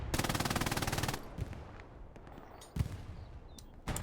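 Rapid bursts of machine gun fire in the World War II shooter game Hell Let Loose on the Kharkov map, a long loud sustained stream followed by scattered distant shots and another short burst.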